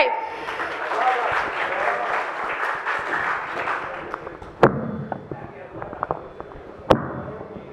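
A burst of dense clapping from an audience at a Punjabi poetry gathering in Gujranwala fills the first few seconds, then thins out, punctuated by two sharp thumps, with voices underneath.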